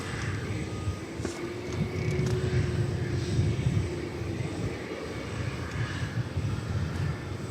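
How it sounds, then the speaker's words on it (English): An airplane arriving on the flight from SLP at DFW Airport gives a steady, broad engine roar that holds at an even level through the whole stretch, with no voices over it. "here's the flight from SLP"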